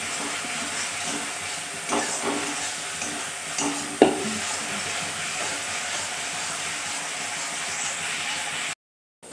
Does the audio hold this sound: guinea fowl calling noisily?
no